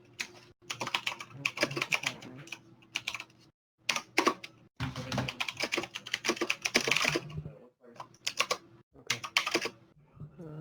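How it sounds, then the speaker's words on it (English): Loud computer keyboard typing in rapid bursts during an online tabletop roleplaying game session, with short pauses between flurries of clacking keys, close and prominent with no talk over it. "Loud keyboard is loud."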